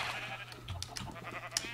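Sheep in Minecraft bleat in a quick run of short, soft calls layered over quiet background music.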